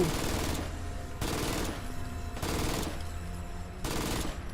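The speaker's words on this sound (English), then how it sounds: "Where's my this heavy machine gun?" A heavy machine gun fires in the video game Fallout: London, in loud, sustained bursts of rapid fire. Roughly four bursts are broken by brief gaps.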